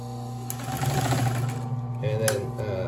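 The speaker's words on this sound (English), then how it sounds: "So that's four layers of 12 ounce denim." Consew industrial sewing machine stitching through four layers of 12 ounce denim, a steady close mechanical whirr and needle chatter running throughout with a brief voice underneath.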